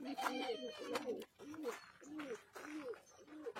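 Pigeons coo at a farm in a steady run of soft, rounded, repeating calls close by, with a voice speaking over part of the cooing.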